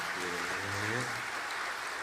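A church congregation claps in encouragement during a Sunday service, a short, soft round of applause with a voice briefly heard at the start.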